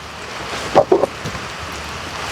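Steady rain falls as a continuous soft hiss throughout, with a couple of brief louder knocks or splashes near the middle and no voices.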